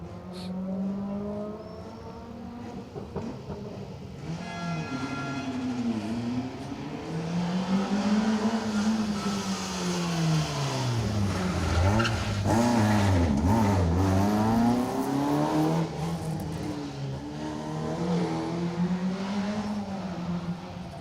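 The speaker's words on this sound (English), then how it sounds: "The little 1400 Corsa is round the hairpin." A little Vauxhall Corsa 1400 rally car rounds a tarmac hairpin on a Manx Rally stage, its engine note dipping and rising through repeated gear changes and revs, moderately loud and alone.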